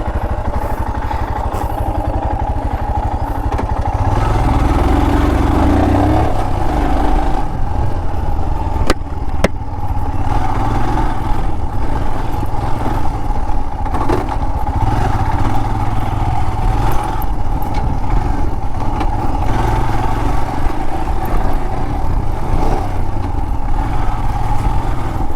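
A Royal Enfield Himalayan 411 motorcycle engine drones steadily while riding off-road, a loud, continuous mid-pitched thrum with a constant rattling clatter and no pauses.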